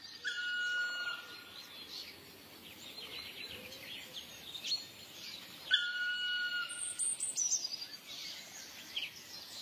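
Several birds chirp and sing in spring at moderate distance, overlapping trills and short calls against a quiet outdoor background.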